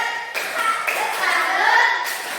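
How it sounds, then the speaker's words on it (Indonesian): Children clapping their hands together in a classroom, a dense run of overlapping claps that is loud and close and lasts about two seconds, with young voices mixed in. "Tepuk tangan dulu."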